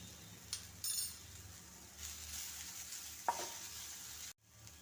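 Stirring in a pan of bitter gourd curry as turmeric powder goes in, with a soft scrape and clink of a utensil at moderate distance, a steady low sizzle underneath, then an abrupt cut near the end.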